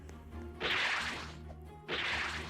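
An attack move effect from the Roblox game Holy War X, two sharp whip-like swooshing bursts about a second apart, each a quick hissing crack that trails off, fairly faint and with no talking.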